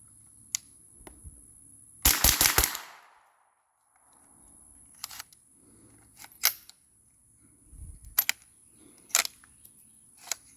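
Sharp, dry reports of a .22 Long Rifle firing: a quick burst of several shots, then scattered single cracks and clicks with quiet gaps between them, outdoors.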